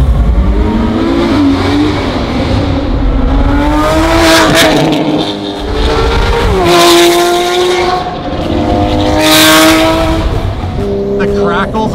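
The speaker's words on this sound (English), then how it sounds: "The crackles on that car." A loud street-legal Aston Martin project car revs hard close by, its engine note rising and falling in repeated pulls with sharp exhaust crackles and pops, while people talk over it.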